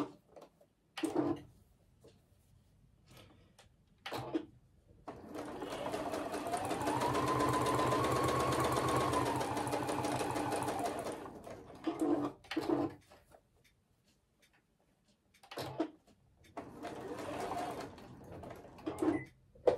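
A domestic sewing machine stitches around the edges of a fabric bookmark in one sustained whirring run of about six seconds. It is close and fairly loud, framed by short bursts of mechanical clicks and handling noise before and after.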